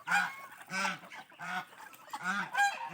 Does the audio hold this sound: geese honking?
yes